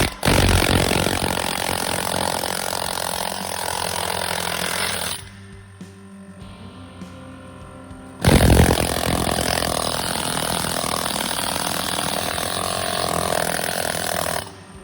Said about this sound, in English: Cleaning it up with a needle descaler, cleaned it up as if it was shot blast